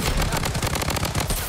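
Rapid burst of gunfire in the mobile shooter Blood Strike, dense and loud, crackling shots fired in quick succession for about a second and a half with no pause.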